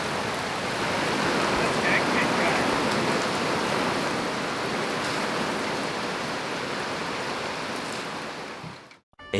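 Heavy rain pours steadily during Cyclone Jasper around a sailboat in Cairns, a dense, loud, unbroken hiss of water hitting the boat and surrounding surfaces that holds constant for the whole stretch before stopping abruptly.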